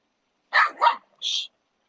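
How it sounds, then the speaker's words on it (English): Dogs bark nearby in two quick yaps followed by a higher, sharper yip, short bursts separated by silence. "I'm sorry, my dogs are feral."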